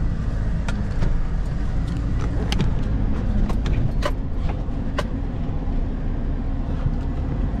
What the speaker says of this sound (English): A lot of trucks and tractors coming up here, man.